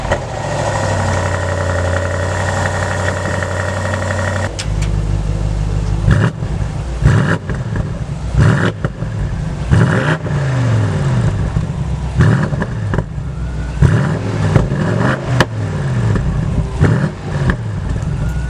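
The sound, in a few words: BMW M850i 4.4 liter twin turbocharged V8 engine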